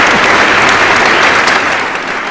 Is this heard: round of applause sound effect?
yes